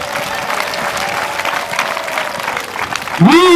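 A church congregation claps in a dense, steady burst of applause that fills the space, ending with a loud ringing feedback-like tone near the end.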